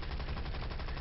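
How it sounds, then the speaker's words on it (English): Rapid aircraft machine gun fire in the War Thunder flight game, a dense, continuous loud rattle of bursts that runs the whole second with no talk over it. "so time to clean up with the machine guns"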